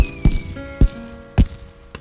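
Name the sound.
cartoon fireworks exploding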